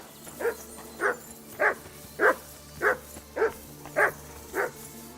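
Mutt, the dog in Kingdom Come: Deliverance II, barks eight times at an even, steady pace, each bark clear and close over a quiet background hum.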